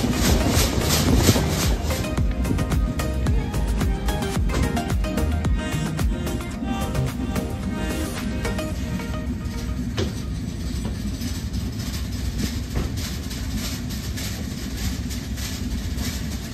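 Nilsagar Express passenger train running between Dhaka and Naogaon, a steady loud rumble of wheels and carriage noise with faint rhythmic clatter, continuous throughout and heard from inside the train.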